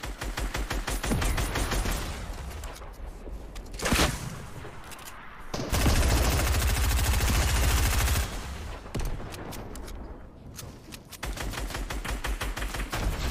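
Video game gunfire, with dense stretches of rapid automatic shots that pause briefly and then resume, loud and continuous through most of the clip.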